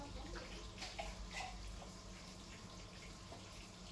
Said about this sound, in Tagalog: Yan, itapon pa niya yung tubig.